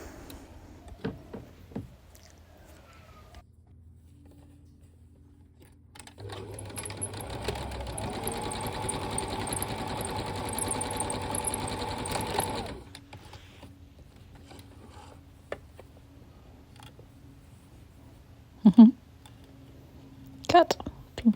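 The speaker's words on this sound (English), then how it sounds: "I'm going to keep stitching these together." A sewing machine runs steadily for about six seconds, stitching fabric pieces together for a quilted stitchery wall hanging, with quiet handling clicks and rustles before and after the burst.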